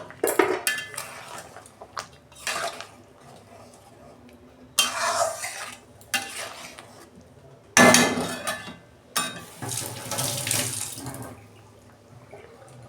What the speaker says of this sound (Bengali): এই যে ঢাকনা খুলছি